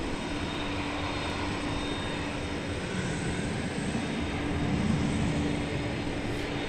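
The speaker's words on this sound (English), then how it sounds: "There's another 20th century airplane." A passing airplane at DFW Airport after dark gives a steady, broad jet roar that swells slightly toward the end, with no voices.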